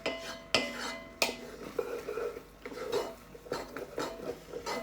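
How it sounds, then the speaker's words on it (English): Metal spoon scraping and clinking against a Dutch oven while spring risotto is stirred, with sharp irregular knocks and scrapes, close and fairly loud, no talking. "Just stir. Risotto requires patience."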